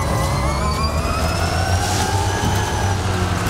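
Electric Hummer driving in the Forza racing game: a steady, loud synthetic whine with rising tonal lines over a constant low hum, no engine pulses, continuous and alone.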